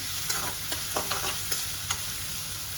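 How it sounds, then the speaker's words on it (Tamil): Onions are stir-fried in a pan until browned, with a bright, steady sizzle and a series of quick scraping strokes from a spatula, close up and alone. "ஃபுல்லாக நல்லா வதங்கணும், நல்லா ப்ரௌனிஷ் ஆகணும் வெங்காயம்."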